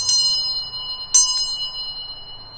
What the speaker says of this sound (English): we'll go ahead and grab the old bell as well. Give it a little ring.